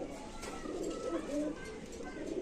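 A pigeon coos softly several times in a low, rolling murmur, close by and fairly quiet against light background noise.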